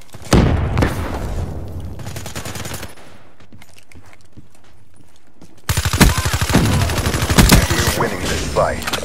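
Frag grenade blasts and rapid gunfire in Call of Duty Black Ops 3 multiplayer, dense loud bursts of shots and booms, a quieter gap in the middle, then another heavy barrage.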